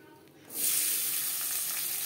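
Mustard oil heating in a wok for a potato-chicken curry: quiet at first, then a sudden loud, close hiss of sizzling that holds steady to the end.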